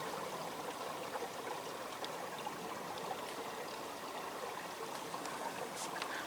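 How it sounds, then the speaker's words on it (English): Creek or spring water running beneath rocks at a Pennsylvania deer camp, a steady close trickling and babbling that fills the clip alone with no talk. "you can hear the creek or the spring running under the rocks"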